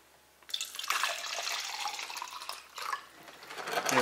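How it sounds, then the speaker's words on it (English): Water pours in a steady hissing, splashing stream into an infuser bottle, starting after a short quiet moment, briefly easing and then resuming louder, close by. "Add some water."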